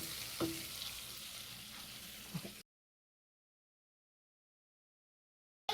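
Onions sauté in melting butter in a pot, a soft hiss with a couple of faint stirring clicks for about two and a half seconds, quiet and close, followed by silence.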